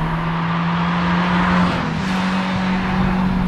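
Ferrari 328 with a 3.2 liter transverse V8 in a light car, its engine humming steadily and smoothly, loud and close throughout with a strong low drone and no talking.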